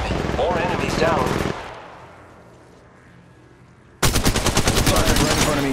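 Gunfire in the mobile shooter Apex Legends Mobile: a loud burst of rapid automatic shots, a quieter lull, then another sustained, fast rattle of close weapon fire.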